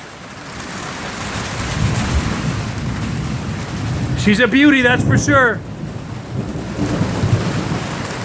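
Steady heavy rain with low rumbling thunder during a thunderstorm, continuous throughout, with a voice talking over it partway through.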